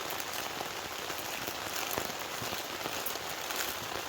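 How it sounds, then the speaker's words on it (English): Heavy rain pours onto a tent in the Scottish wild, a dense, steady patter of drops drumming on the fabric up close with no voices. "the sound of rain hitting the tent. Absolutely pouring down there"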